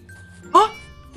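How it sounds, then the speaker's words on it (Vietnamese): A cat meows close by indoors, a single short rising call over a quiet room with faint background hum. "Tiếng mèo gần đây quá các bạn ơi."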